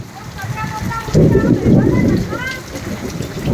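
Steady heavy rain with thunder and lightning pours down, swelling louder midway, while people talk over it.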